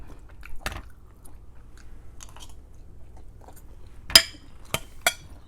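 Someone eats khanom piak pun, a Thai pudding, with faint chewing under quiet room tone and a few sharp, close bites or clinks, one at a time.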